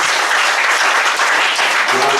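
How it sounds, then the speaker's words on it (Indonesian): Loud, dense applause from a large crowd at a college leader's inauguration, many hands clapping together without pause. "Bisa tepuk tangan ya."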